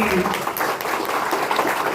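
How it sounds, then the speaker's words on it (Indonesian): A group in a meeting room claps briefly and loosely, a short burst of scattered applause mixed with overlapping chatter and voices. "Oke, tepuk tangan dulu buat Bu Umi."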